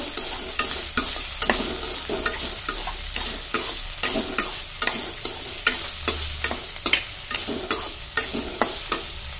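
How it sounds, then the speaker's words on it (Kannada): Tomatoes fry in a pan while a spoon stirs them in a quick, regular rhythm of scraping strokes and clicks over a constant sizzle, close and fairly loud, no voices. "ಟೊಮ್ಯಾಟೊ ಹಾಕತ್ತೀನಿ ಟೊಮ್ಯಾಟೊನು ಸ್ವಲ್ಪ ಹುರ್ಕೋಬೇಕು"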